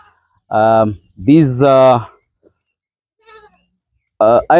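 Goats at a feeder, several loud close bleats in separate bursts with pauses between, one faint distant call in the gap.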